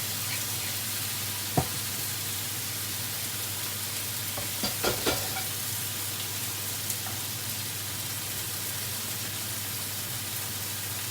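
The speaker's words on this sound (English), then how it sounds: "the sirloin's going to cook first, so that will be nearly ready" Beef sirloin fries in a pan with a steady close sizzle. A few sharp clinks or pops stand out in the middle, and nobody speaks.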